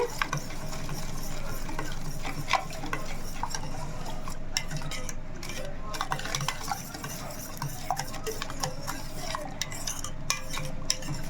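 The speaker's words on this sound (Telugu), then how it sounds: "ఇలా బాగా కలిపేసుకోవాలి" Steady scraping and clinking of a spoon stirring a mixture in a bowl, continuous and close, with faint background noise.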